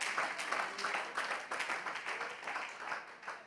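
Church congregation clapping hands in praise, rapid rhythmic applause from many people, steady and moderately distant, with faint voices underneath.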